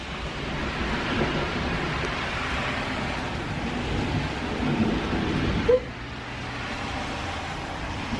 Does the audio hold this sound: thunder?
yes